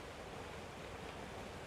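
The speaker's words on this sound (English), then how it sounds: "sound of running water" Running water in a Japanese garden makes a faint, steady, even rush with no breaks.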